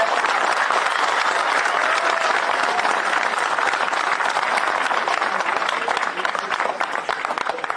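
Crowd at a rally breaking into loud sustained applause, dense clapping from many hands filling the space, steady throughout and easing slightly toward the end.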